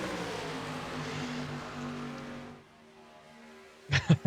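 NASCAR Truck Series race trucks at Talladega roar in a steady, loud engine drone that fades after a couple of seconds, followed by sharp, loud bursts at the end.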